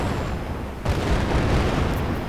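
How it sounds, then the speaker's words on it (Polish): A mortar shot in the video game Worms 3D lands as a muffled, low boom that rumbles for a second or so, followed by a brief sharp click at the end. "tak słabego strzału moździerzem to chyba jeszcze dzisiaj nie było"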